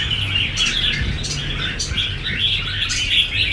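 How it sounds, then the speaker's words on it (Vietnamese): Red-whiskered bulbuls, caged songbirds, chirp and trill repeatedly in bright, close, busy bursts over a low background hum. "có một số loại chim chào màu vùng Trà Linh, chim giọng 7 đến 8 âm"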